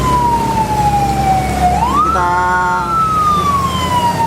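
Wailing ambulance siren on a flooded road during heavy rain, its tone sliding down, then sweeping up and gliding again, loud and fairly close over rumbling traffic, with a brief word spoken.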